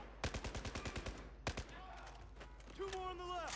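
Rapid bursts of automatic rifle fire in the shooter game Battlefield 4, two close volleys of sharp repeated shots followed by game effects and a rising electronic tone, loud and near with no talk.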